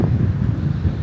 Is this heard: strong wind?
yes